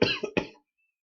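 A person coughs indoors, two or three quick close harsh bursts in a row, followed by silence.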